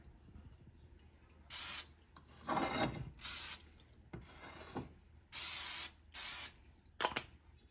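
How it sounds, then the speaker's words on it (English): Several short hissing sprays from an olive oil spray can greasing a pan come in bursts of about half a second each, close up in an otherwise quiet room. "Now I'm going to lightly grease my pan. Got some olive oil spray here."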